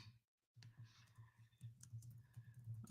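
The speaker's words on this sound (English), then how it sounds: "Just typing something." Quiet, rapid tapping of keys on a computer keyboard, continuous clicks in an irregular rhythm after a brief silence.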